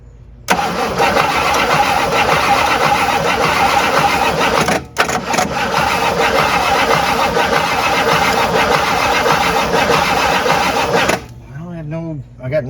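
A long-abandoned 1958 Super car's starter cranks the engine on its first start attempt, a loud steady churning that runs about ten seconds, briefly breaks, resumes, then stops without firing, followed by a voice.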